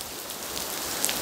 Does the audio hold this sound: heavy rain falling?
yes